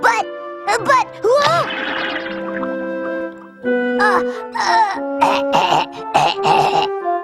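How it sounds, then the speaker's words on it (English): A few throaty, sputtering coughs and gurgles from a cartoonish voice, broken up by music and other vocal sounds in a lively, busy mix. "You ought to do something about that cough."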